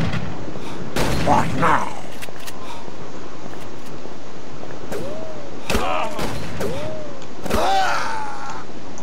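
Scattered gunshots crack out in Call of Cthulhu: Dark Corners of the Earth, several loud sharp reports spread across the scene with ringing tails and mechanical clatter between them, and a voice speaks briefly.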